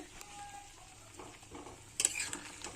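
Small fish curry (puti or chuno mach) reducing in a pan over a high gas flame, giving a low, steady bubbling sizzle with sharper crackling pops near the end.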